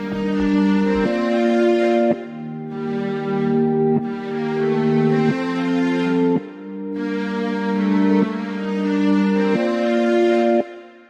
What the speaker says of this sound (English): So the next thing I added was these strings from Triton, and they are known as the legato strings.